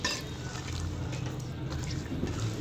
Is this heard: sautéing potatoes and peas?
yes